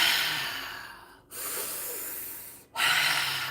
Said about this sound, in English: When I start saying breathe deep like this